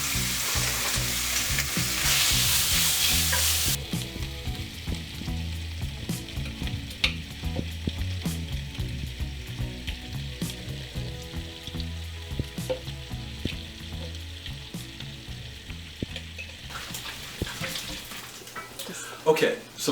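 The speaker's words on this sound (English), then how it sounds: "we've got our bacon over here browning" Bacon browning in a pan for Texas stew crackles and sizzles steadily and close, with a louder hiss at the start, intermittent pops, and a voice talking over it.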